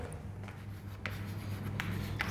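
Chalk or marker strokes scrape across a board in short bursts while an equation is written during a maths lesson on Bernoulli differential equations, faint and close with a steady room hum beneath.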